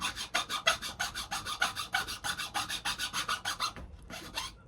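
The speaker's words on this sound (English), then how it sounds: "This file is not getting through that rust streak very quick." A metal file rasping through a rust streak on patina paint, with steady rhythmic back-and-forth strokes, about four per second, close and fairly quiet, with a brief pause near the end.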